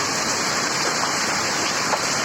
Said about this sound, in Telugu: మళ్ళీ వర్షం వస్తుంది కదా